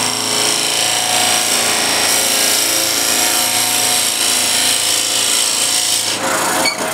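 A power drill bores a mortise into wood with a 15 mm Forstner bit, a loud continuous grinding whir that holds steady for several seconds before slowing near the end.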